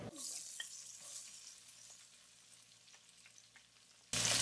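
Cumin seeds and six whole dried red chillies sizzle in hot oil, a steady soft crackle with a few small pops, before a louder burst of frying at the very end.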